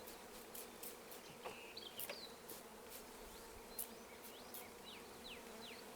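Bees buzzing around a hive as a colony is installed into a ten-frame box, a steady faint drone with occasional closer passes of individual insects flying by.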